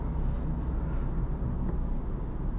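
Engine of a 2016 Toyota Auris while driving, a steady low drone and hum heard from inside the cabin, even in level and continuous throughout.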